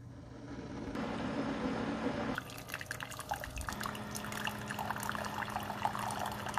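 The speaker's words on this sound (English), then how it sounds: "Now I'm going to come over here and let's just do a rinse. And I want to show you. Let's do a 10-ounce rinse." A Keurig K-Duo coffee brewer runs a 10-ounce water rinse, first with a steady pump hum, then a thin stream of hot water trickling and dripping into the cup, quiet and close.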